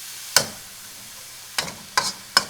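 Shrimp fried rice frying in a pan, heard as a few sharp spatters and stirring clicks, one near the start and three more close together later, over a quiet background.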